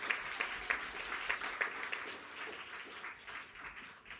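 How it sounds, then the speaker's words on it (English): Audience applause at a slam poetry final, faint and distant, a scattered patter of hands that fades gradually over a few seconds. "Biggest round of applause the Daily Mail's ever had."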